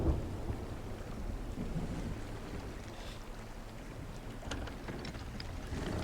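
A storm at sea in Sea of Thieves: steady wind and rain hiss with low rumbling thunder and water wash, a continuous dull roar at moderate level.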